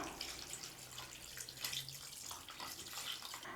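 Water poured steadily into a cooking pot while making country-chicken biryani, a soft continuous splashing and trickling stream, fairly quiet and close, with no voices over it.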